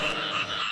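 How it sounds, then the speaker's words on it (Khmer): Frogs in a rice field croak in a steady, buzzing chorus, close and fairly loud for a brief moment with no other sounds. "សំឡេងកង្កែបហ៊ីងយំត្រហឹងពេញវាលស្រែ"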